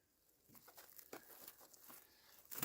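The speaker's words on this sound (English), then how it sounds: "Go ahead and cut your saran wrap here." Saran wrap being cut and crinkled, a faint, close series of soft crackles and rustles with a louder crinkling burst at the very end.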